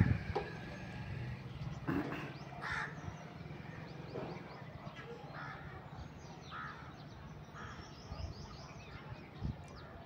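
Crows caw repeatedly at varying distances over a steady outdoor hum at sunset, with other birds and egrets chirping faintly in the background.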